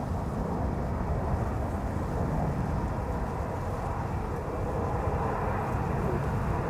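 A 13-year-old KLM Fokker airliner on flight 735 at Amsterdam Schiphol's Polderbaan runway gives a steady, unbroken broadband roar that holds at an even level throughout, with no voices.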